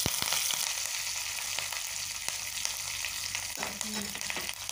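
Cumin, mustard seeds and curry leaves sizzle in hot oil, a steady close crackling hiss with occasional sharp pops and utensil taps, no voices.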